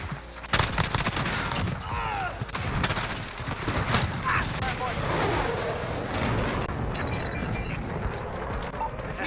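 Rapid P90 submachine gun fire in the video game Modern Warfare, dense bursts of shots with explosions and chaotic game noise filling the whole stretch, loud and continuous.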